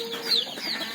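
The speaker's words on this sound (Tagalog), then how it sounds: "Ayan ating mga alagang manok." Pet chickens cluck softly nearby, a short burst of faint, high calls.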